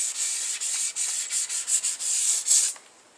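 A wooden board bow being sanded by hand with 320 grit sandpaper, giving a steady, close, hissing rasp in short repeated strokes with brief pauses, heard alone before it fades out at the end.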